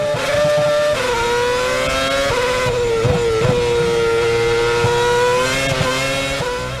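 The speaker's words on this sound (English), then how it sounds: "Now Ricciardo overtook his teammate." F1 race cars from the F1 2012 video game at the Australian circuit, engines screaming at a sustained high pitch with gear shifts and revving as cars overtake, loud and steady throughout, no voices.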